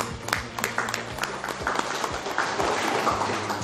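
Scattered audience clapping at a school journalism training event, fairly quiet and irregular, with a few sharper claps standing out over a low room murmur.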